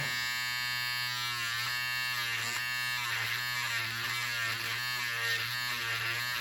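An electric stitch remover buzzes steadily up close as it cuts through stitching, a constant motorized whine whose tone wavers slightly as it catches threads.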